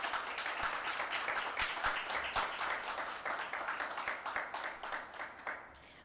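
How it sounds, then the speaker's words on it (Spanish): Audience applause at a magazine presentation event, many hands clapping in a lively, fairly quiet burst that thins into more distinct individual claps near the end. "Pido un aplauso para este maravilloso grupo de colaboradoras."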